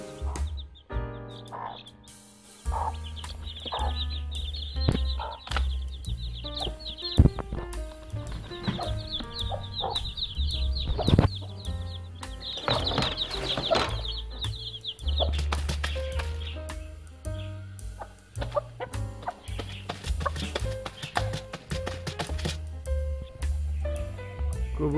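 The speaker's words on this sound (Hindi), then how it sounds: "मुर्गी को डाले हैं जी दाने" Village chickens cluck and call while being fed grain, with scattered pecking and occasional wing flaps, fairly near and continuous, with faint background noise.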